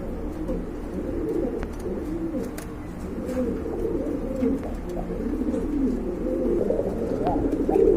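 Pigeons kept for sale in a market or loft coo steadily, several birds overlapping in low, soft throaty calls, a continuous murmur at moderate distance with no talk.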